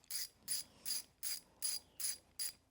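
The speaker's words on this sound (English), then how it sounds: "we're just running them down the rest of the way with the ratchet" A ratchet runs engine bolts down on a Yanmar diesel from a John Deere 755 tractor, giving eight regular bursts of clicking, each about a fifth of a second long, close up and fairly quiet with no talk.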